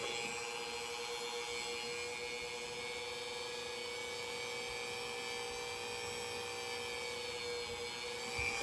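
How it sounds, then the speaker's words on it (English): A small drill whines steadily while boring a hole through a tiny whale-shaped earring, the high-pitched motor tone holding constant and close for several seconds with no talking. "We're going to drill a hole in it."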